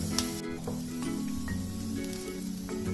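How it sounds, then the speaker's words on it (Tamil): Green chillies and onion sauté in a hot kadai for restaurant-style kadai paneer, giving a steady close sizzle with soft stirring scrapes that carry on without a break and with no voices. "இப்போ இதில் பச்சை மிளகாய், வெங்காயம் சேர்த்துடலாம். இது நல்லா வதக்கிக்கலாம்."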